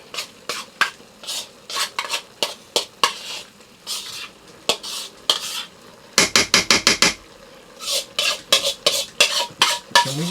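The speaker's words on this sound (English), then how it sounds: "we're just going to stir this in." Casserole mixture for a Philly cheesesteak bake being stirred in a crockpot, with close, rhythmic scrapes and clinks of a spoon against the pot, including a quick burst of rapid strokes partway through.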